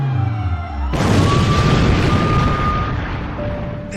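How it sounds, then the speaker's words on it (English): A film-style explosion bursts overhead, a sudden loud boom after a low rumbling lead-in, followed by a sustained roar of crackling debris that slowly fades, with no voices. "And then an explosion above me."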